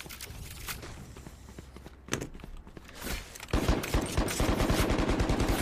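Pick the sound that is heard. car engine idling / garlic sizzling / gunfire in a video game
gunfire in a video game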